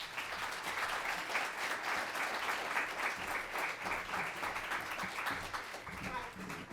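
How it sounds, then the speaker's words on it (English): A crowd applauds steadily for several seconds at an event kick-off, a sustained wash of clapping at moderate distance with faint voices beneath. "So with that, Cook County team, please give a round of applause for Michelle Duster."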